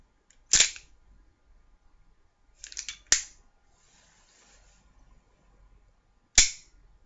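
An airsoft gun fires in a quiet room, giving sharp, crisp snaps spaced a few seconds apart, with a softer mechanical click before one shot and nothing else in the background.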